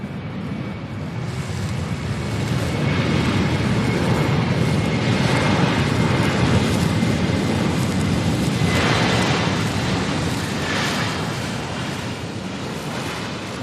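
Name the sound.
airplane arriving from Dallas-Fort Worth at SDF airport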